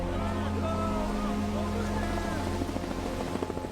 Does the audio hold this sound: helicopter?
yes